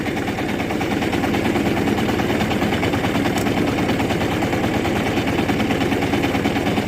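A Shifeng 350L tractor pulls away in third gear during autumn ploughing, its engine producing a loud, rapid, steady diesel chugging with a continuous rattle and no speech.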